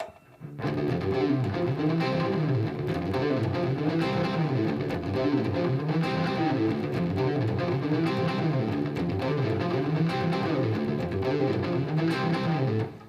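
A distorted electric guitar plays a busy, rhythm-oriented rock lick, steady and loud for about thirteen seconds with no talking over it.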